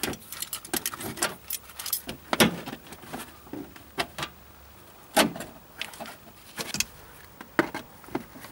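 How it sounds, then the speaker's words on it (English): Plastic front right-hand wheel arch liner being worked loose from a car, heard as a close series of irregular clicks, snaps and rattling knocks with brief pauses between them. "Remove the front right-hand wheel arch liner."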